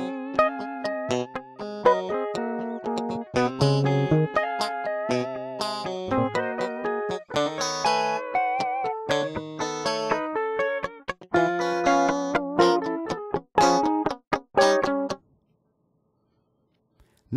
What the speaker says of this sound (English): let's take a listen to the dry guitar recordings.